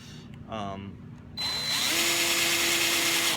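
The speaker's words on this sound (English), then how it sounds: "running it in reverse will, it's not gonna take any significant cut. It'll just scrape it a little bit" A power drill running in reverse scrapes lightly at wood while a Stew Mac Mini T guitar kit is worked on, the motor starting after a short burst of talk and then whirring steadily and loudly to the end.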